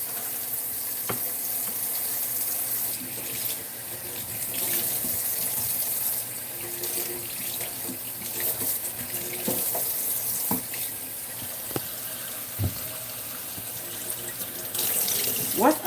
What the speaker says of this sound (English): let me rinse everything off so we can get busy up in this kitchen